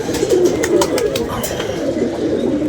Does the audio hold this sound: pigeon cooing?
yes